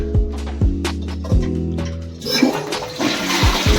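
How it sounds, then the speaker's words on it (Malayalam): A toilet in a house in Japan flushes with a loud rushing gush of water, preceded by a few rhythmic mechanical knocks, close up. "പിന്നെ ഫ്ലഷ് അടിച്ച് കഴിയുമ്പോൾ"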